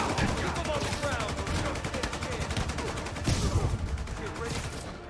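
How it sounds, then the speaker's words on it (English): Enemy gunfire in Marvel's Spider-Man Remastered, fairly quiet rapid automatic shots rattling in a steady stream mixed with game sounds, with a voice speaking over it. "Why are you shooting so much?"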